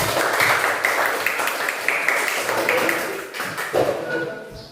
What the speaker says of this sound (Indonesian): boleh tepuk tangan untuk kelompok 1